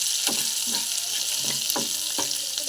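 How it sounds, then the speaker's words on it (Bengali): Chopped onion and dry chillies fry in a pan with a loud, continuous sizzle, broken by a regular rhythm of scraping stirs every half second or so. "তো চলুন এগুলো ভালো করে ভেজে নিই আগে।"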